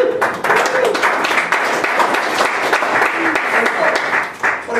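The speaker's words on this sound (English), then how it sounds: "So applause for everybody again." An audience at a startup accelerator demo day applauds in a thick, continuous burst of clapping, loud and close, with murmured voices mixed underneath and a slight tapering at the end.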